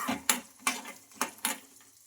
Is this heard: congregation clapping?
no